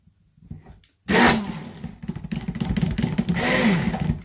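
After a moment of near quiet, a blender mixing a small quantity of soap batter suddenly whirs to life, a loud, close, grinding motor whine that churns on steadily.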